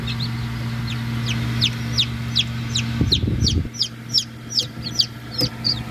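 Newly hatched chicks in a hatchery incubator give a steady run of high, rapid peeps close by, over a constant low machine hum, with a short burst of rustling partway through.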